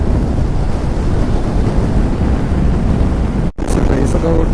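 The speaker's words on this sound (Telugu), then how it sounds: "ఇసుక కొట్టుకొస్తుంది, ఇసుక మొత్తం చాలా విండ్ ఉంది" Strong wind buffets a motorcycle rider on the sandy Diskit to Pangong route in Ladakh, a loud continuous roar that cuts out abruptly near the end, with voices heard over it.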